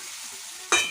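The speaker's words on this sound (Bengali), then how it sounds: "সুন্দর করে আমি ভাজছি" Soybean curry frying in a pan: a steady low sizzle that jumps into a louder, brighter crackling burst near the end, as if stirred or with food added.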